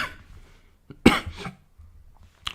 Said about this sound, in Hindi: ये तो खांसी तो और ही परेशान कर रखी है